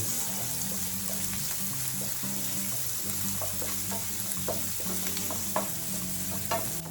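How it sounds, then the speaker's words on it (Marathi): Onion sautés in hot oil in a home kitchen while Rava Appe is being made, giving a steady, close sizzle with frequent stirring scrapes over a low background hum. "कांदा थोडा परतून घेऊया आणि गॅस स्लोच करूया, कारण थोडं तेल पण तापलं आहे जास्त"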